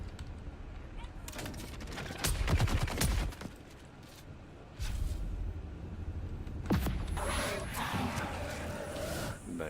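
Gunfire in Dune Awakening, with clusters of sharp shots and rapid bursts spread across the stretch, interspersed with quieter gaps and a brief rumbling passage, while a voice talks at times over the action.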